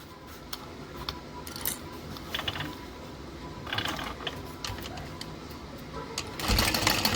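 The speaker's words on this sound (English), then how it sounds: "We'll top stitch across." A sewing machine top stitches across a fabric hobo bag, its needle mechanism running in short bursts of rapid mechanical chatter with pauses between, close up and moderately loud.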